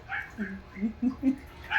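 A dog gives a quick run of soft yips and whimpers, several short calls in a row, fairly quiet and close.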